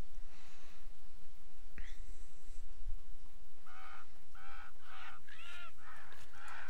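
Birds in the fantasy action game Titan Quest honk repeatedly, a few scattered calls early then a rapid run of loud goose-like honks over a steady ambient background.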